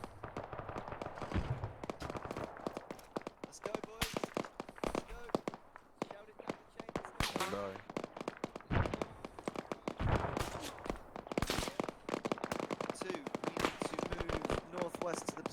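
Gunfire in a military co-op game, with sharp scattered shots and short bursts, some near and some farther off, running under frequent voices talking.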